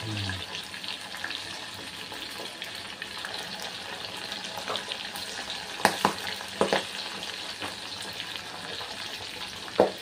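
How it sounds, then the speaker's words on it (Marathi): Corn kernels frying for crispy corn send out scattered sharp pops over a steady sizzle, with a few louder cracks standing out against the constant frying hiss. "पटपट फुटतायत ते मक्याचे दाणे"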